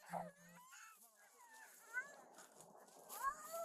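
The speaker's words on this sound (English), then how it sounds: "the incessant licking of a very excited search dog" Excited police search dog whimpering and licking close by while someone talks to it over the top in a soft, encouraging voice.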